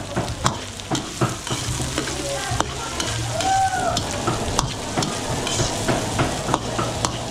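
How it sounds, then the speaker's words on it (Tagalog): Garlic and onions sizzle in a pan as they are sautéed, with a spatula scraping and stirring in repeated clicks over a steady frying hiss, close and moderately loud. "papupunayin ko lang ng konti yung ating bawang sibuyas"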